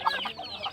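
Native country chickens cluck in a quick, close, moderately loud burst of short calls on a small farm.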